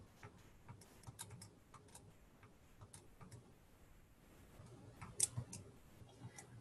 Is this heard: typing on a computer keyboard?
yes